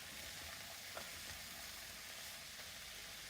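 Momordica cymbalaria gourd sautéing in a pan, a faint steady sizzle with a soft knock or two of stirring, no voices.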